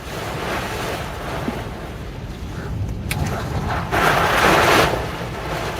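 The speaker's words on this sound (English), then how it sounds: "It's a little windy." Wind blows outdoors against a phone microphone, a continuous rough rumble with gusts swelling louder toward the end.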